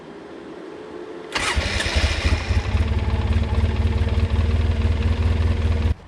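A Polaris ATV quad engine cranks and fires, then settles into a loud, steady idle with a rough throbbing rumble close by, and no talking.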